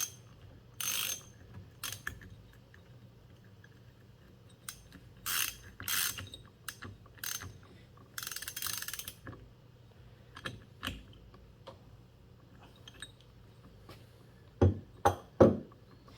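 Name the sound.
tightening size 22 nut on Yamaha Blaster clutch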